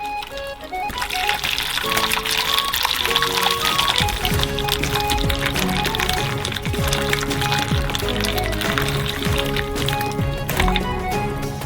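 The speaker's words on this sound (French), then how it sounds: "nous versons de l'eau chaude sur la plaque du bas." Hot water pours onto a lower oven baking tray while a Korean street-food giant castella sponge cake is prepared, a steady splashing, trickling stream close by that runs for several seconds.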